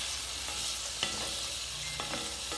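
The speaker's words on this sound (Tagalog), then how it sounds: "haluin yung potato para hindi siya dumikit sa skillet" Potatoes stirred in a hot skillet for a cheesy pork, sausage and pepper dish, with a steady sizzle of frying and a few scraping spoon strokes against the pan, close and alone.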